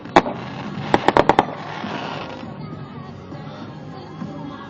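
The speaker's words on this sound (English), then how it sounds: "there's a lot of fireworks" Fireworks launched from a beach on Bonfire Night, with one sharp bang followed by a quick cluster of four cracking bursts, then a fading rumble under background noise.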